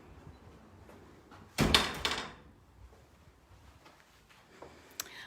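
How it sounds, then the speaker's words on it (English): A house door swings shut with one solid thud and a brief rattle in a quiet entryway with hardwood floors, followed by faint small knocks. "Let me just shut this door."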